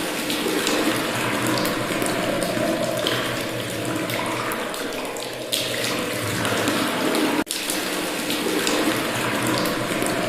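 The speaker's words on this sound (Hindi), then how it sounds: "अंदर पानी गिरने का शोर बहुत तेज था" Water pouring steadily from a bathroom tap, a loud continuous splashing rush close by, with one brief click partway through.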